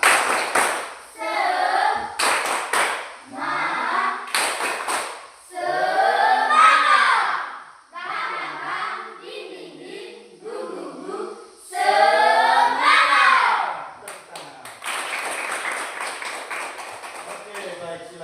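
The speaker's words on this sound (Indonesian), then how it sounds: "Tepuk semangat." Schoolchildren standing in a classroom perform a rhythmic spirit clap, bursts of patterned clapping alternating with chanted group shouts, loud and close, with a teacher's voice between rounds.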